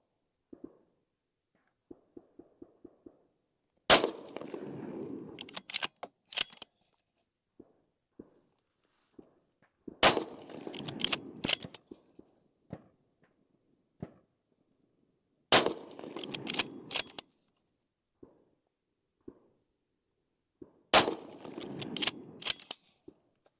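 A Remington 700 rifle chambered in .223 firing at a range, four sharp loud reports spaced several seconds apart, each followed by a brief echoing tail and handling clicks.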